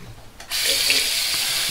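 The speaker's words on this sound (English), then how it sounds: "Just wash it down with cold water." Cold water gushes steadily from a bathroom tap after a shave with a RazoRock SLOC razor, starting abruptly and running at an even, close, hissing flow.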